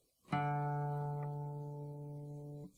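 A single open fourth string on an acoustic guitar is plucked for tuning, a clear close note that sustains evenly for over two seconds before being cut off, with no voices.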